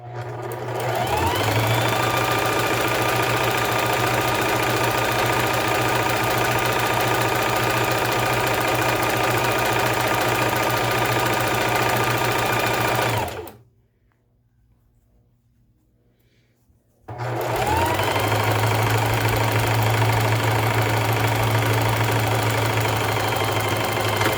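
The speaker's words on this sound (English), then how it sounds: "you want to run it forward and then run it backward, and that gives you so it doesn't unravel at those ends." A sewing machine stitches a knotted fabric headband in two loud, steady runs, forward then backward to lock the seam ends, with a few seconds of silence between the bursts and no talking.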